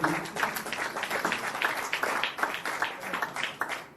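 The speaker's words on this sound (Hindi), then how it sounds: "उनके लिए एक बार जोरदार तालियां।" An audience at a ghazal album launch applauds with a dense, steady patter of many hands clapping, lively and continuous for the whole stretch.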